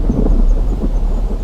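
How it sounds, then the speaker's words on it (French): Sudden thunderstorm thunder, a loud, continuous low rolling rumble filling the whole short stretch with no talk over it. "tandis qu'éclatait un soudain orage"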